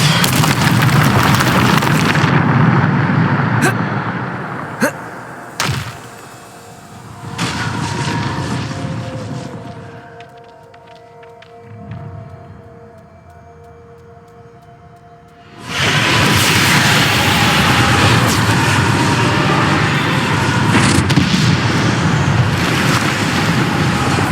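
Depulso spell blasts and combat in the video game Hogwarts Legacy: loud, roaring bursts and booming impacts, a quieter stretch with a low tonal hum in the middle, then a sudden surge of heavy, continuous blasting noise.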